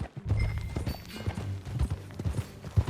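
Horse hooves clip-clopping at a walk in the Red Dead Redemption II video game, a close, steady rhythm of dull thuds over a low background.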